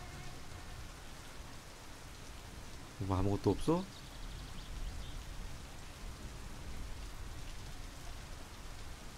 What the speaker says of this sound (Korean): 갑자기 또 비가 와 오늘은.